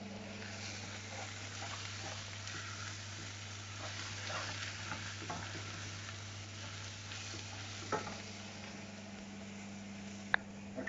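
Curry powder and turmeric being stirred in a frying pan over low heat, a steady soft sizzle with faint scraping, a constant low hum beneath and an occasional sharp clink.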